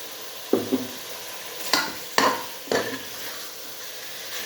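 Chicken curry masala fries in a pan under a constant sizzle, and a spoon scrapes and knocks against the pan in four sharp, close strokes spaced irregularly.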